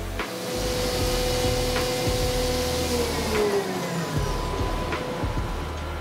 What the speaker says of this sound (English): The robot then flips the parts over for milling on the other side.